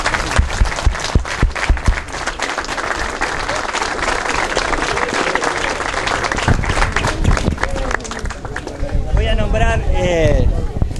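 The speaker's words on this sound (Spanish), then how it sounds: "Un aplauso para todos" A crowd at a race awards announcement claps loudly, the applause fading back toward the end as a voice starts speaking over it.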